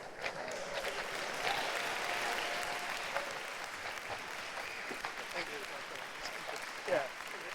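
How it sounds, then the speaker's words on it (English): Audience applause at a conference closing ceremony and awards, a sustained wash of clapping from a room of people at moderate volume, with a few louder claps standing out. "A round of applause for a second."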